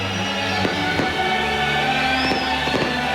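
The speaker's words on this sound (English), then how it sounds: "The fireworks have been blasting for over 5 minutes now." Fireworks blast over Manger Square by the Church of the Nativity in Bethlehem at a millennium celebration: a continuous loud roar with sharp bangs and cracks bursting through it, distant echoing rumble and faint whistles.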